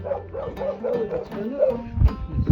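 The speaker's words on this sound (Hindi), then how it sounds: "यहाँ पे कुत्तों की आवाज़ भी आ रही है" Dogs kept at a Kabyle village house yip and whimper in a rising and falling run of short calls, with a louder thump near the end.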